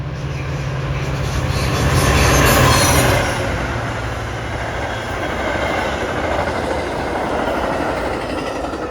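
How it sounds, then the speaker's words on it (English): A Union Pacific Line commuter train passes close by at a road crossing, a loud, steady rush of wheels and rail noise swelling and then holding, with a faint squeal early on. "it's a Union Pacific Line train."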